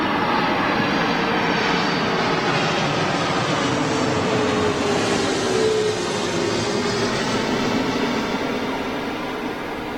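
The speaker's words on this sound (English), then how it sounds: "So this is a lease aircraft, folks." A leased airliner at London Gatwick Airport, its jet engines producing a loud, steady roar that holds throughout and tapers slightly at the end.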